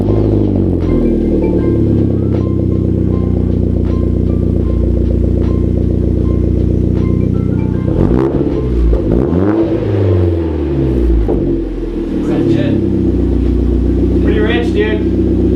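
Hyundai Genesis Coupe 2.0T with a new catback exhaust revving loudly and continuously close by, the engine note rising and falling through several surges around the middle, with people talking over it.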